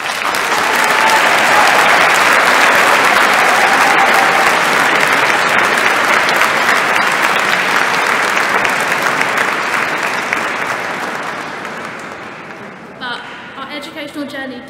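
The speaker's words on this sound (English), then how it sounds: "I'd like to invite our graduates to give a big round of applause." A large crowd claps steadily for over ten seconds at a graduation ceremony in Canterbury Cathedral, reverberant, the applause slowly fading as voices begin to emerge at the end.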